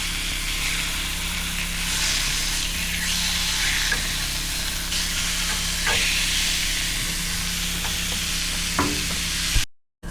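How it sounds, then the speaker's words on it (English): Homemade French fries cut from potatoes frying in hot oil aboard a houseboat, a steady dense sizzle and hiss throughout with a few soft clinks before it cuts off at the end. "Gonna cut up some taters and make some homemade French fries."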